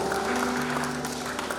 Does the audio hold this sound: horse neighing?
no